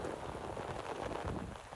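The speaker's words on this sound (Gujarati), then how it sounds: "પાછો વરસાદ ચાલુ થઈ ગયો." Steady rain falls in a village farmyard after a night of continuous downpour, a dense, even patter that is fairly faint and unbroken by voices.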